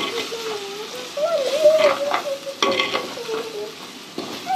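Stirring coriander and turmeric powder for fish curry in a hot pan with a soft sizzle and scraping strokes, while a voice talks intermittently over it.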